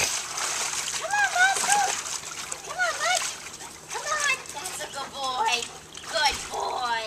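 A greyhound splashes about in water, giving repeated sloshing splashes under continuous background noise while people talk nearby.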